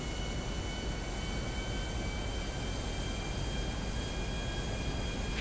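Airplane engine in GTA 5 spooling up during a takeoff run, a dense, constant roar that holds steady and loud throughout, with no voices.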